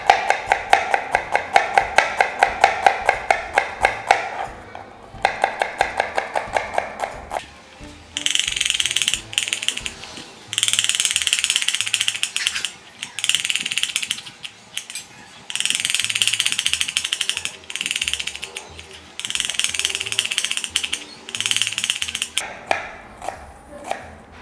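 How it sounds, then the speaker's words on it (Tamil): A knife slices onions thinly lengthwise for egg biryani, giving rapid rhythmic chopping taps on a board in bursts separated by short pauses, close and fairly loud, with no talk. "வெங்காயத்தை பிரியாணிக்கு வெட்டும்போது நீட்டு பாக்கில் மட்டும்தான் வெட்டணும்"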